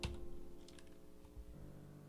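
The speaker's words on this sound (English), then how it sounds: "I'm kind of learning some tricks like that to kind of make my typing faster." Fast typing on a computer keyboard while programming, with a dense run of soft key clicks under a faint steady hum and no voices.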